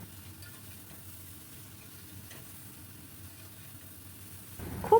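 Prawns with green chili paste and ginger paste are stirred in a pan, a faint steady sizzle with soft stirring that ends in a louder scrape.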